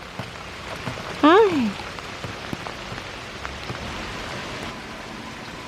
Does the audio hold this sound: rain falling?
yes